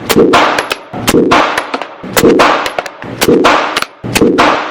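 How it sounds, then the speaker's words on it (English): A handgun is fired left-handed at a shooting range, five loud, sharp shots at a steady pace of roughly one per second, each ringing briefly with a metallic tail, and no talk over them. "Put the gun in your left hand. Left-handed. 5 shots. Fire."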